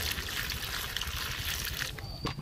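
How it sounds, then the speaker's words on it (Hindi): Water splashing and trickling steadily as cut eggplant is washed in a wok for a village fish curry, a continuous close wet rustle with a few sharper clinks near the end. "कढ़ाई में पहले धो लेते हैं।"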